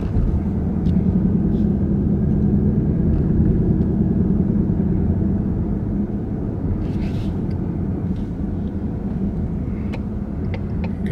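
Ford Mustang 5.0 V8 engine pulling under acceleration, a deep steady rumble heard from inside the car, loud and continuous with a slight easing midway and faint knocks on top.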